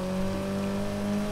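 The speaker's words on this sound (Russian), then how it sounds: "Вы слышите, какой звук у этой тачки?" A steady Mitsubishi Lancer Evolution X engine drone in Need for Speed Heat, with a constant low hum and tonal whine, holding an even pitch throughout with no talking.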